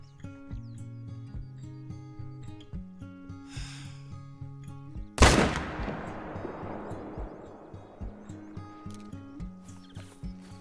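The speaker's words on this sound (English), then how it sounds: "we somehow messed up the shot on that Mouflon" A single loud rifle shot at a mouflon in the hunting game Call of the Wild, a sharp crack with a long rolling echo that fades over several seconds above a steady rhythmic music bed.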